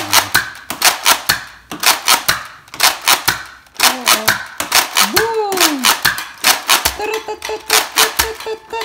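A Nerf Mediator blaster shooting foam darts, giving a run of sharp, loud, evenly spaced snapping shots close by, with a person speaking and a whooshing vocal sweep between them.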